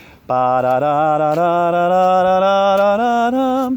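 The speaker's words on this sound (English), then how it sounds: "they're going to warm up on a blues scale, which sounds like this." A single sustained wind instrument plays a slow rising blues scale as a warm-up, note by note, clear and close with no talking.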